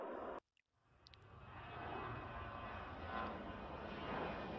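A plane takes off in the airport game Airport Madness, its engine roar rising from silence and holding steady, loud and broad, with a brief synthetic cue near the start.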